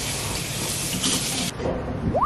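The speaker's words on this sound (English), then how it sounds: "We're gonna wash out these cups so that way we can use that to pour." Tap water runs steadily into a sink while plastic frappe cups are rinsed out, a continuous close hiss that cuts off abruptly partway, followed by faint handling sounds.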